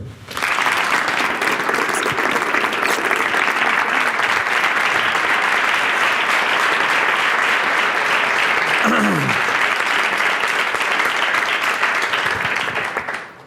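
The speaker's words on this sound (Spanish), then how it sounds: "quiero pedir para ti un fuerte aplauso" A large audience gives sustained, loud applause that swells quickly and holds steady for several seconds, then fades at the end, with a brief voice cutting through near the middle.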